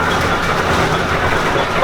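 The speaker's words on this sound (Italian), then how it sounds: "Vai là Marvin, senti il rumore il motore che tira" An old Fiat 306 bus engine being revved, a loud, dense, continuous roar filling the short stretch with steady intensity, heard up close.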